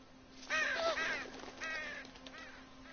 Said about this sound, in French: Des corbeaux.